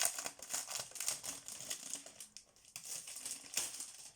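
Packaging on a set of three planner notebooks being opened nearby, giving continuous crinkling and rustling with small clicks and tears, steady through most of the stretch with a brief lull midway.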